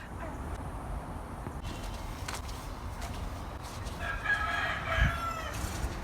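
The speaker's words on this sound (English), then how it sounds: "the cock crows and a lot has been done" A rooster crows outdoors in a garden setting, moderately distant beneath a steady wash of broadband background noise, with the call standing out near the end.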